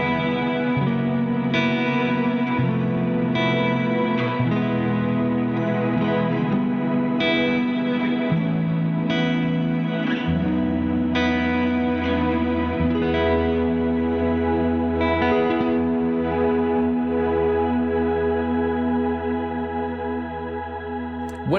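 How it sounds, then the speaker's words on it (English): Electric guitar played through a Crazy Tube Circuits Sidekick Jr pedal set to shimmer reverb, sustained chords with a bright, octave-up wash and long swelling tails, loud and continuous throughout with no talking. "If you wanted to go for something a little bit more modern sounding, you could always opt for this shimmer reverb."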